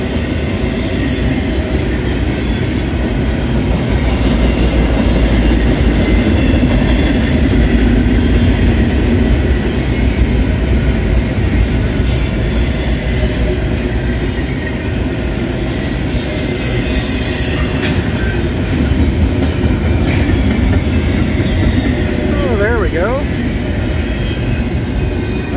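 A Norfolk Southern northbound intermodal freight train rolls past on track two, a loud, continuous rumble of wagons with rhythmic wheel clatter and occasional squeals, close by, with faint voices underneath.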